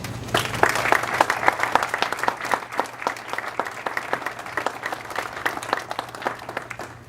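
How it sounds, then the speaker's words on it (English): Warm audience applause for a General at a South Jersey ceremony, a steady dense patter of many hands clapping at even loudness throughout, without speech. "round of applause"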